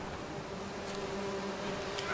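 Steady low insect buzzing of bees in the Witcher 3 video game, a continuous faint drone with a sustained hum running through the whole stretch, no voices over it.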